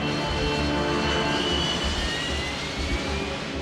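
Airplane jet engines spooling up to full throttle for a go-around during a landing approach, a loud steady roar that swells and holds throughout.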